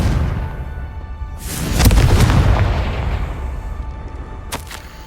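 A Confringo spell explosion in the Hogwarts Legacy video game: a loud, deep blast that swells and rumbles for a couple of seconds, followed by a sharp crack near the end.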